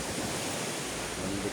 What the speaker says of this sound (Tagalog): yan guys ang karagatan natin